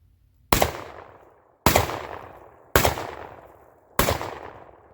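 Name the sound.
Panzer EG200 shotgun firing Fiocchi shells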